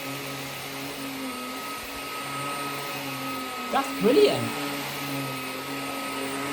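A Hoover HFX Home cordless upright vacuum cleaner runs with a steady, close whine over carpet, while a person speaks briefly partway through.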